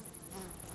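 A bee buzzing steadily close by, a continuous loud drone with no pauses.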